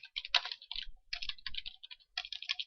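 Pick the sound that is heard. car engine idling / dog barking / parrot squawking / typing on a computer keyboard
typing on a computer keyboard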